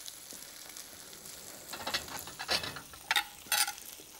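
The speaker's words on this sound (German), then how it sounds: "Es kocht jetzt kräftig, ey." Rote Grütze bubbling vigorously in a pot, soft intermittent pops and bursts of sizzling that grow busier toward the end, close and fairly quiet with no voices.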